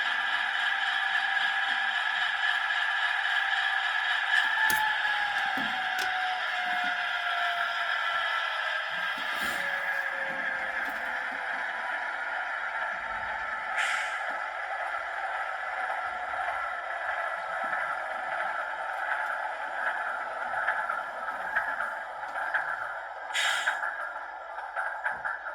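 An Atlas B40-8W model diesel locomotive in BNSF H4 paint runs its sound-equipped shutdown sequence, a continuous droning engine hum with a slowly falling tone and occasional clicks and clanks, no voices.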